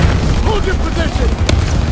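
Call of Duty WW2 battle noise: a loud, continuous wash of gunfire and explosions, with shouted voices over the top.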